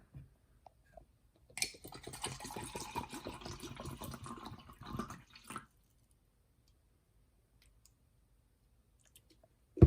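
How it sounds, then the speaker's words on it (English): Bottled water from Hawaii poured into a container, a short gurgling, splashing pour of a few seconds in a quiet room, bracketed by faint clicks. "Let's pour some water in."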